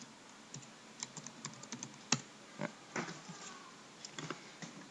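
Quick bursts of keystrokes on a computer keyboard during command-line work in Windows, close and fairly quiet, with irregular clusters of taps and a few sharper key hits.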